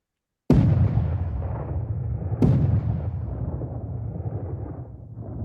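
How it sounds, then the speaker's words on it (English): Two heavy cannon blasts about two seconds apart in a historic warfare ambience, each a sharp boom followed by a long rolling, fading tail, with no speech. "there you can see you got your cannons"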